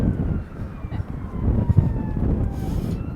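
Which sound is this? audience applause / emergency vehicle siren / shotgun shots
emergency vehicle siren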